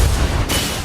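A loud explosion goes off in the mobile battle game Mobile Legends: a short, heavy booming blast that tails off after about half a second, heard alone.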